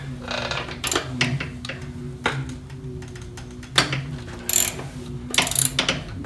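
Ratchet wrench loosening a bolt on a Harley touring motorcycle during lowering kit installation, with close, rapid clicking pawl strokes in several short bursts and brief pauses between them.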